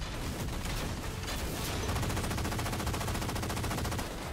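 Sustained automatic gunfire from the Halo 4 video game, a dense, steady rattle of rapid shots running nearly unbroken for about four seconds at a loud, even level.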